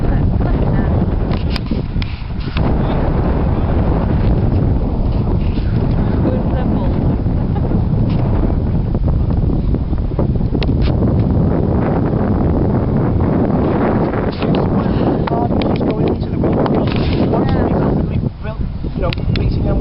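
Strong outdoor wind buffets the microphone continuously while a bird of prey is flown, a loud, rough roar that stays steady throughout, with people talking faintly beneath it.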